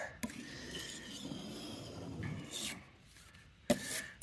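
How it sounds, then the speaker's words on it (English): A putty knife scrapes sticker adhesive off the painted body of a converted school bus in a few long, rasping close-up strokes, ending in a sharp knock. "now we're gonna give this one more scrape. The putty knife."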